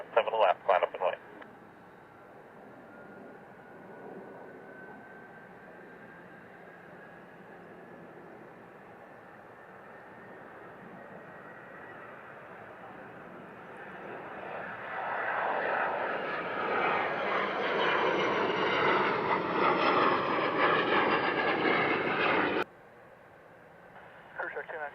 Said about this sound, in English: This is a Hawker 800 XP.